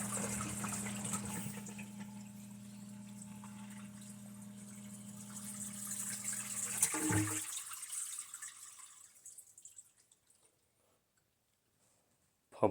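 A newly installed secondary sump pump runs steadily with a low motor hum and rushing water for about seven seconds, then cuts off, leaving the splashing to fade into near silence.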